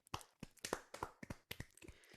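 A quiet golf clap: a handful of soft, sparse hand claps, close and faint, in a small irregular run with no other sound.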